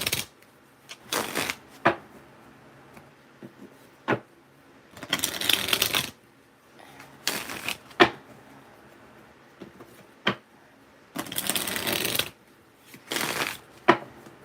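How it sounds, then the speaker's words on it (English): A stiff deck of tarot cards is shuffled over and over, close and fairly loud, in bursts of riffling and snapping separated by short pauses and single sharp taps. "I haven't used this deck in a little minute because they're stiff. The cards are stiff."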